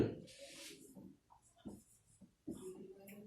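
Marker or chalk dragged across a board in a few short scratchy strokes, close and fairly quiet, with brief murmured voice fragments between them.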